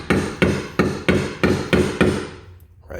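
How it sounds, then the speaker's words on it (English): A hammer strikes steadily while a worker opens up a downstairs wall to reach a badly leaking second-floor toilet: about seven loud, evenly spaced blows, each with a short ringing decay, then a quieter tail. "But I got my guy downstairs opening up the wall."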